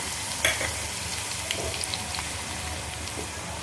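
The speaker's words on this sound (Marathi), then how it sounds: "आपलं तेल गरम झालेलं आहे याच्यामध्ये ग्रेटेड लसण टाकून देऊ" Grated garlic dropped into hot oil for a tadka: a steady, dense sizzle and crackle running throughout at moderate level with no talk.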